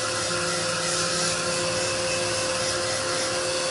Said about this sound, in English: I'm going to shoot them a second with the heat gun.